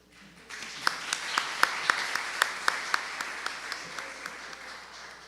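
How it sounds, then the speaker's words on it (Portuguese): An audience at an image-week lecture event gives a short round of applause, with distinct sharp claps standing out over a soft, steady patter before it fades. "Podemos aplaudir agora?"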